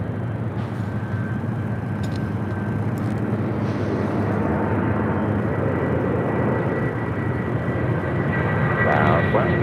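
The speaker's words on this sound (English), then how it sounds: "Next takeoff here on the south side is United Airlines Flight 2609 heading to Boston" A United Airlines Boeing 757-200 takes off at LAX, a broad, steady jet roar that swells gradually, heard from a distance with a voice talking over it.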